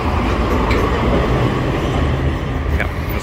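A Kraków city tram rolls in on street rails with a loud, steady rumble and a couple of brief metallic squeals, close by amid street noise.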